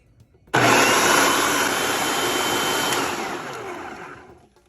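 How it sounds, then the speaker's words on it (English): A food processor blends chocolate hummus with cocoa powder: the motor starts abruptly into a loud, steady whirring roar that holds for a few seconds, then slows and fades as it winds down. "I'm just going to go ahead and mix this up before I add the rest of it."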